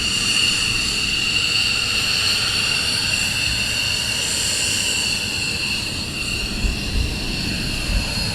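A military jet taxis at RAF Lakenheath, its engines a loud continuous whine and roar holding steady throughout, heard alone.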